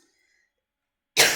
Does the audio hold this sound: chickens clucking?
no